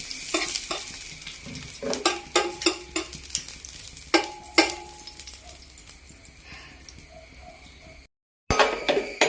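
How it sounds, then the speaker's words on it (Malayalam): Ghee sizzles in a hot pan while a spoon clinks and scrapes repeatedly against the metal, then the sizzling continues after a brief cut. "നമ്മുടെ പാത്രം ചൂടായിട്ടുണ്ട്. നമുക്കതിലേക്ക് കുറച്ച് നെയ്യ് ഇട്ട് കൊടുക്കാം."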